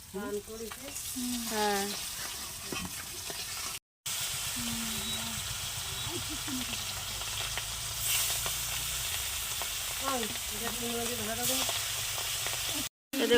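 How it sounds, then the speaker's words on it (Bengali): Pangas fish head frying in oil in a wok over a clay stove, a constant bright sizzle and hiss under intermittent voices, with occasional stirring; the frying continues steadily near the microphone throughout. "মাছ এই যে মুড়ো ভাজা হয়ে গেছে"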